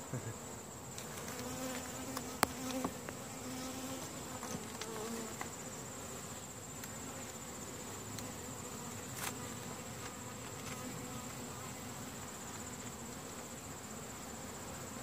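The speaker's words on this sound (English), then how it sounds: "That's a lot of bees." A dense, steady buzzing of many honey bees, close and continuous, with a few faint clicks and taps.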